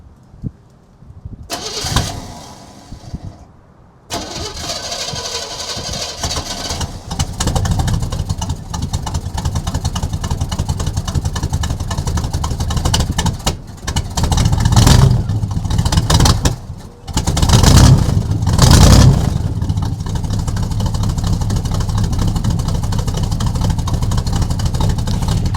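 An old, long-sitting squarebody plow truck cranks over on a 60-degree cold start, with starter whirring, then the engine catches into a loud, rough, steady idle with a few surging revs, recorded up close.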